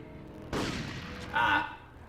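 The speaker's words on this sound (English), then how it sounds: "who's shooting at me?" A sharp burst of gunfire aimed at the player in Medal of Honor cracks out close and loud, followed by a brief bright whine, over a low game background.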